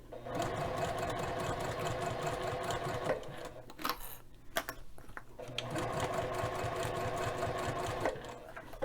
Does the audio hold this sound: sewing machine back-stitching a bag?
yes